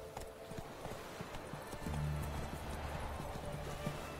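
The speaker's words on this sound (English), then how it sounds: "Whoa there, Roach." In The Witcher 3: Wild Hunt, a horse's hooves clip-clop at a steady gait, then a loud whinny cuts in partway through over continuing hoofbeats and faint game ambience.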